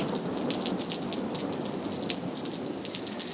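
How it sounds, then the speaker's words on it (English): Steady rain pours outdoors during a thunderstorm with lightning, a dense continuous hiss of drops that stays loud and even throughout, with no voices or thunder cracks. "it's raining out here"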